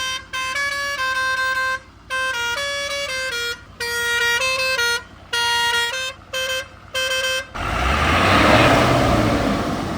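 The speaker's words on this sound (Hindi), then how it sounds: "ये जो हॉर्न है एयर प्रेशर वाले होते हैं।" Multi-trumpet air-pressure horns on a Tata 3118 truck blare in a series of loud, chord-like blasts with short gaps, then give way to a broad rushing hiss of air.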